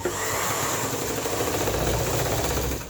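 Domestic sewing machine back-stitching the seam of a baby dress, a steady close mechanical whir with a low motor hum running continuously and loud throughout, no talking.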